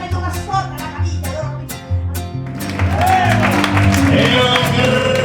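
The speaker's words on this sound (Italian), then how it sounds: "E un grande applauso." Music plays first, then theatre audience applause rises for a touring Shakespeare performance, becoming a loud, dense roar of clapping that continues to the end.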